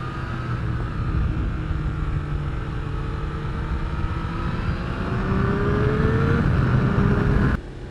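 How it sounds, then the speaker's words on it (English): A Yamaha R1 sport motorcycle engine with an aftermarket exhaust drones steadily with rising pitch as it accelerates, loud and close, with wind rushing throughout. "I like listening to the engine work."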